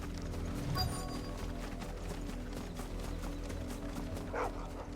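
Dog barking in the video game Final Fantasy XVI, a few short barks and a yip around the first second, heard over steady in-game music and ambient sound, with a faint clip-clop of hooves.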